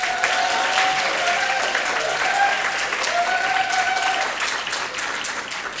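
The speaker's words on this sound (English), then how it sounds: "Can we have a round of applause?" A crowd at a celebration event applauds warmly and continuously, with a thick wash of clapping and some cheering voices, easing off slightly near the end.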